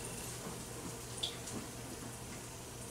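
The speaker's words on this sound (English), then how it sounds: "And you can hear that sizzle." Panko-breaded leftover rice balls fry in hot oil with a steady, soft, hissing sizzle. It stays even and fairly faint throughout, with no voices.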